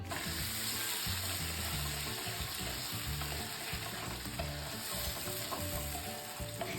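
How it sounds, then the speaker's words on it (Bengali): Onion paste fries in oil for Bengali katla rezala, a steady hissing sizzle with faint stirring scrapes, heard beneath rhythmic background music. "দিয়ে দিলাম পেঁয়াজ বাটাটা দিয়ে একটু ভালো করে কষিয়ে নেব পেঁয়াজ বাটাটা"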